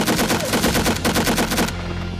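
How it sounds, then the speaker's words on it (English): Rapid automatic gunfire as two squads shoot at each other during an assassination ambush on a jeep; rattling bursts at close range that stop abruptly after about two seconds, with no speech. "The two squads started shooting at each other."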